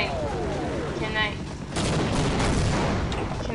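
Enemy gunfire in the video game Half-Life: a short fusillade of sharp, rapid shots and booms that crackles in bursts over a couple of seconds, with a voice speaking alongside.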